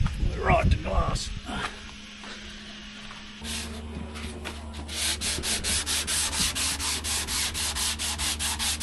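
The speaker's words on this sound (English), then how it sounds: "doing a bit more sanding on one of the replacements" Sanding a replacement boat part on a workbench, rhythmic back-and-forth rasping strokes that begin softly and grow steady and prominent, with a voice speaking before the sanding.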